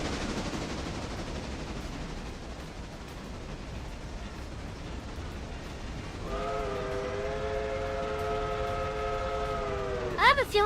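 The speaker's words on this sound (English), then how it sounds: "we will have to wait at Elo for the train to not only get there, but to also do its thing" A train in the railway game Railroader rolls in under a steady rumble, then a sustained multi-tone horn sounds for several seconds before a brief final blast.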